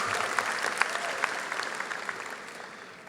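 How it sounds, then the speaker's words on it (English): Graduation ceremony crowd in a large hall breaks into sustained applause, a dense wash of many hands clapping with a few sharper claps popping out, gradually easing off toward the end. "Give yourself a round of applause."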